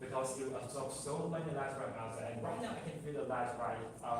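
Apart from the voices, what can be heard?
No distinct noise like a dog, phone or traffic.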